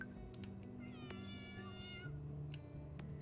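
Several cat meows from the video game Cat Cafe Manager, a cluster of rising and falling mews in the middle over a steady background game music loop, with faint clicks scattered throughout.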